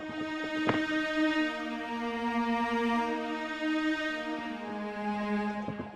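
A Sytrus orchestra patch layered with the Flex Strings 2 preset in FL Studio forms a lush, sustained string chord with a brief plucked accent near the start and a chord change late on, heard alone at even volume.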